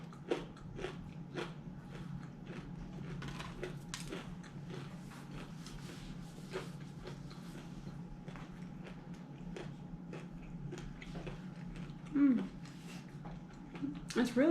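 Crispy Louisiana-seasoned fried chicken bitten and chewed up close, giving a run of sharp crunches at an irregular pace over a low steady background hum, fairly quiet throughout.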